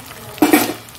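Tomato dropped into a pan of Bengali fish curry (macher jhol), giving a short burst of sizzle and a clatter of utensil against the pan, close and fairly loud after a quiet start.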